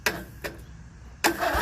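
Riding lawn mower engine cranking briefly and failing to start: short bursts of starter turning and mechanical churning, near and moderately loud, separated by pauses.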